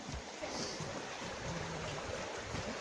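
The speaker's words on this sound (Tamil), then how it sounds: "இங்கே சூப்பராக தண்ணி ஓடிட்டுருக்கு." Stream water flows steadily outdoors in cold weather, a continuous broad rushing wash with no pause and no voices.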